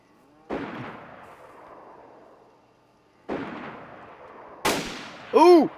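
Three gunshots in the survival game DayZ, heard at night in the dark: each a sharp blast with a long rolling echo that fades out, spaced a few seconds apart, the last quickly followed by a brief electronic tone.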